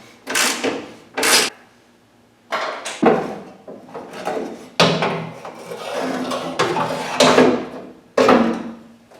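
Metal window tracks being worked out of a 1970-81 Camaro door, with a series of loud close scrapes, clunks and sliding knocks of metal against the door shell in irregular bursts and gaps; no talking.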